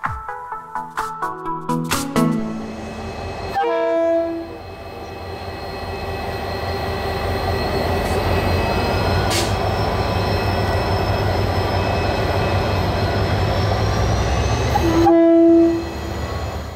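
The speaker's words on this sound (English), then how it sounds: "7023 and 7199 head off with the Northern Explorer Consist for stabling overnight after a long day on the trunk" The Northern Explorer passenger train at Auckland's The Strand, hauled by DFB locomotives 7023 and 7199, sounds two loud horn blasts around a long, steady diesel engine rumble and rolling wheel noise as it departs.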